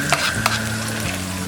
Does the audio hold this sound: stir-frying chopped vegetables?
yes